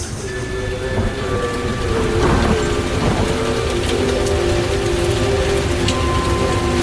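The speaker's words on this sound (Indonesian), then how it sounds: "Ditambah suara hujan yang menandakan kondisi malam itu" Heavy rain falls steadily at night in a thick wash of noise, with a low rumbling hum and a few brief tonal whines beneath it.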